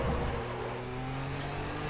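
A Porsche 962 Group C race car in RaceRoom has its engine revs falling off, a loud close engine tone that slides lower over two seconds, with no talk.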